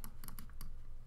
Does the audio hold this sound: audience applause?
no